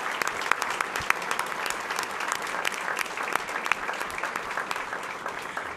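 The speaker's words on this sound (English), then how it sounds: "a huge round of applause" A school governing board meeting audience applauds, steady sustained clapping from many hands filling the room, without speech.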